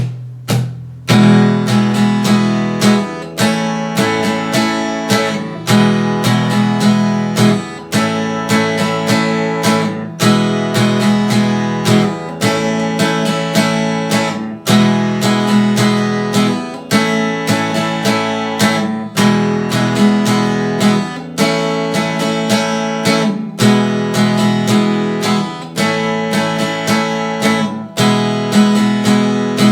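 Acoustic guitar strummed in a steady down, down-up, down pattern, counted one, two-and, three, four, repeating loud and close for about half a minute with no talking.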